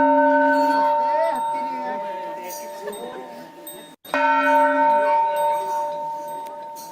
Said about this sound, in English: the exact sound that I was listening to was that of a bell sound, a temple bell sound